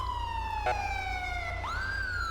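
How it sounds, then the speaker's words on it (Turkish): A police convoy siren in GTA 5 with the LSPDFR mod, on a gendarmerie prisoner transport, wails as a steady electronic tone that slides down and then jumps back up, loud and continuous over a low engine rumble. "Şu arkadakinin sirene bir müdahale edelim."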